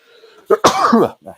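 A single sharp sneeze bursts out close by during a gaming podcast, followed by a short, softer breathy tail.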